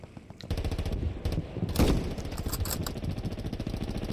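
Gunshots in Hell Let Loose, a WWII shooter, fought in forest: a single sharp shot followed by sustained rapid automatic fire, a close, loud rattling string of bursts with a heavier crack near the middle.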